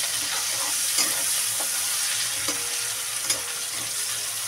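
Onion and garlic frying in a pan with oil, a steady bright sizzle broken by a few soft scrapes and knocks of stirring, close up with no talk.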